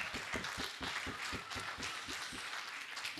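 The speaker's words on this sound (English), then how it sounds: "So round of applause for Jasmine." An audience at a youth peace and harmony event claps for a speaker named Jasmine, a brief, even round of many hands heard faintly from a distance.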